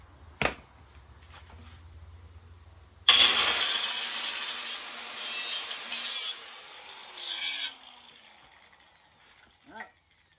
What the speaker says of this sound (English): Little carbide bit work just to clean them up.